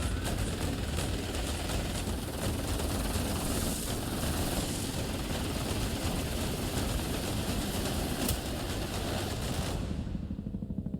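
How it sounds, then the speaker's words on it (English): Helicopter escape sequence from the horror video game Granny Chapter 2: a loud, steady rotor and engine drone runs unbroken for about ten seconds, then cuts off abruptly near the end. "Bro just hit the helicopter escape in Granny Chapter 2"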